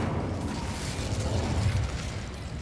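A casting burst of the Incendio fire spell in Hogwarts Legacy, a dense rumbling whoosh of flame with low pops and crackles, loud and continuous across the moment.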